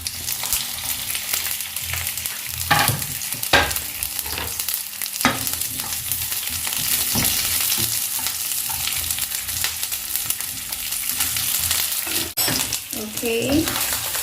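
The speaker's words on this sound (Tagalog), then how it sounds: "Now I'm going to caramelize the onion. So I have my skillet here, guys. It's an olive oil," Onion frying in olive oil in a skillet while being caramelized: a steady, loud sizzle throughout, broken by a few sharp utensil knocks, with a voice briefly heard near the end.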